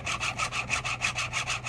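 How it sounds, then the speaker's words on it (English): A pole saw, a chainsaw mounted on a long pole, cuts through bushes beside a canal in a steady, rapid back-and-forth rasping rhythm, loud and close with no voices. "This is a pole saw. Right. So it's a chainsaw on the end of a big pole."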